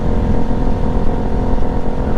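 An Aprilia Tuareg motorcycle with a stage 3 setup and a Dominator HP3 exhaust idles loudly up close, a deep, steady, rumbling engine note with no talk.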